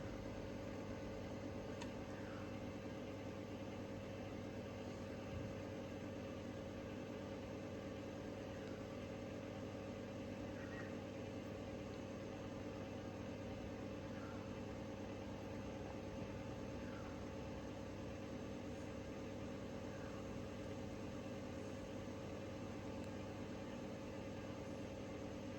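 A 1970s 56-inch Wing Tat straight-bladed ceiling fan spinning down in a shed, a faint steady motor hum and soft whoosh that continues evenly for a long stretch.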